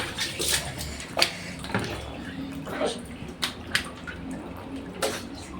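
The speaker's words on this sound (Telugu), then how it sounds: "కొన్ని వాటర్తో అయితే ఇట్లా పోసుకోండి" Water is poured over a small child during a bath, splashing in a few soft, irregular bursts with drips between them, fairly faint, while a voice talks quietly under it.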